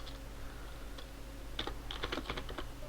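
A computer keyboard clicks with a short burst of fast keystrokes as a Rails command is typed, close and fairly quiet over a low steady hum.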